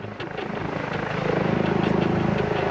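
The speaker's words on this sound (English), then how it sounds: "a police helicopter hovered above." Rhythmic thumping of a police helicopter's rotor as it hovers fairly close and steady overhead, a continuous pulsing drone.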